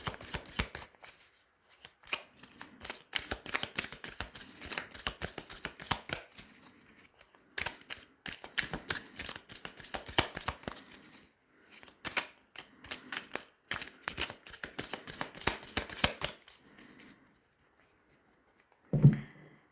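A deck of tarot cards is shuffled and cut by hand, giving long runs of rapid, close riffling card flicks broken by brief pauses, ending with a soft thump.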